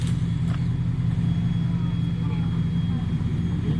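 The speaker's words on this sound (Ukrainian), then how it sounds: "Це дріфт, це нормально." A drift car engine drones steadily at a pro-am drift event, a constant low rumble heard from a distance under people talking.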